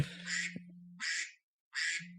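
A duck quacking sound effect: three loud, nasal quacks in a steady rhythm, close and clear, with a low steady hum under the first two and a brief gap of silence before the last.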